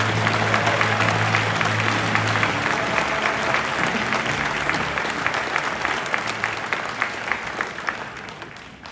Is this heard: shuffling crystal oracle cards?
no